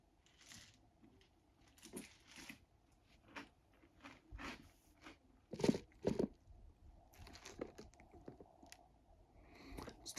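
Trix cereal soaked in milk being chewed up close, wet crunches and smacking bites coming in irregular bursts with quiet gaps, alone without talk.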